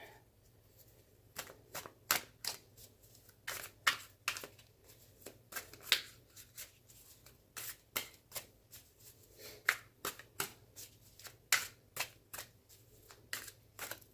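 Tarot cards being shuffled by hand, a long run of crisp riffling flicks and slaps in irregular bursts, close and fairly loud with no talk.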